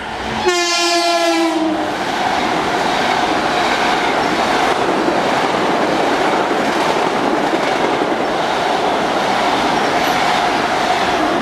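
A loud train horn blast at the start, then the continuous roar and rumble of a Long Island Rail Road Main Line commuter train rolling past close by.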